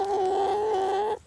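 Chickens clucking in a coop, a continuous, close, steady vocalization for about a second, then a brief break and a short final call.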